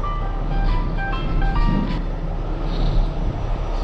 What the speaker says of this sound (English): who could possibly be calling me?